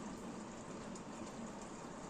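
Pomfret fish curry simmers in a covered pan on a gas stove, a faint, even bubbling hiss that holds steady throughout.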